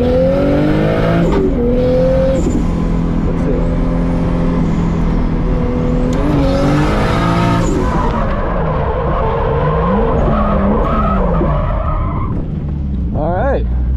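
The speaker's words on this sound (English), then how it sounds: "first time drifting the car with a whole new setup" A car on a new setup drifts around a bumpy old pavement track, its engine loud and continuous with rising and falling revs and tire squeal throughout, heard close.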